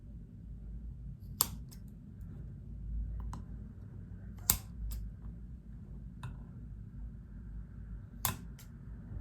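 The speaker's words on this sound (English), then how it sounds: "since they're both set, I'm gonna move that, and we can cut the wicks" Wick trimmers snipping the cotton wicks on freshly set homemade candles poured into reused containers: three sharp, close clicks spaced a few seconds apart over a low, steady room hum, with no talking.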